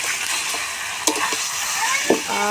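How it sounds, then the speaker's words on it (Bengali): Chicken curry being stirred in a pot over a clay stove, with a steady sizzle of frying beneath a few sharp scrapes of a spoon against the pot. "এবার আমি ঢাকনাটা খুলে দেবো এগুলো একটু নেড়ে চেড়ে নেব"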